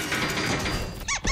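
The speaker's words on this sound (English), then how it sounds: "Let's close the cage door before Pippin escapes again." A cage door in a cartoon fairy kingdom squeaks shut, a loud close creak followed by two sharp rising squeaks with a brief thunk between them.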